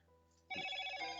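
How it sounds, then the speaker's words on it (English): A mobile phone rings nearby in a repair workshop during a camera repair, with a bright electronic ringtone suddenly starting and continuing steadily after a quiet moment. "So here's my phone going again"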